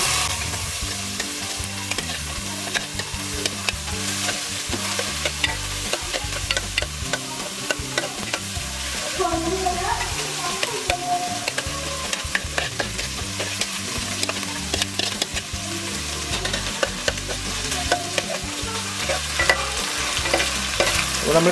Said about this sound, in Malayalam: നമ്മൾ ചെമ്മീൻ ഇങ്ങനെ വെളിച്ചെണ്ണയിലിട്ട് ഇങ്ങനെ വറുത്ത് വരുന്ന സ്മെല്ല് ഇപ്പോഴും കിട്ടുന്നുണ്ട്